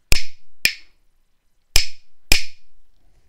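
A pair of hyoshigi wooden clappers struck four times at close range, two crisp loud clacks, a gap of about a second, then two more, each bright and woody with a short decaying ring.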